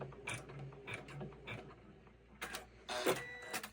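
Embroidery machine stitching freestanding lace, a gingerbread windmill window, into fabric in a hoop; faint, quick mechanical clicking and whirring bursts, busier near the end.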